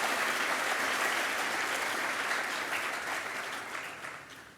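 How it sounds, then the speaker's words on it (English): Dense, steady applause from an awards ceremony audience, loud and sustained throughout before slowly tapering off toward the end. "A round of applause, please, for all the folks at the Advocate"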